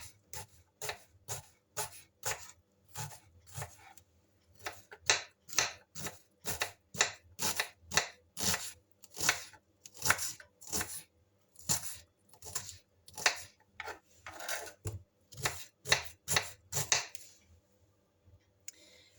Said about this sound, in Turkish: Bir tane küçük soğan soymuştum, yıkamıştım ve hemen doğruyorum.